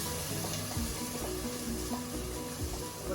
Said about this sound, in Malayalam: പേസ്റ്റാക്കി വെച്ച പാലക്കാണിത്. അപ്പോൾ നമുക്ക് ഇതിലേക്ക് ആഡ് ചെയ്ത് കൊടുക്കാം.